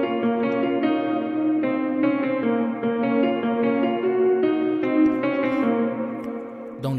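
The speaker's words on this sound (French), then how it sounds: "le même instrument contact, seulement avec plus de reverb cette fois, des notes jouées dans les aigus pour accompagner la partie grave" A contact instrument plays high notes drenched in reverb, a dense shimmering run of sustained tones with a chorus-like wash in a remake of a rap instrumental.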